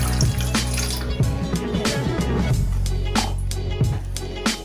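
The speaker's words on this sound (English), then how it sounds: "We put the water into the pan." Water runs from a tap into a cooking pan for jelly pudding, a steady filling splash with sloshing that holds for several seconds, close and fairly loud with no voices.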